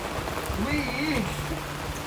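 Steady rain falls and patters on surfaces throughout, a constant hiss with a faint voice murmuring briefly in the background.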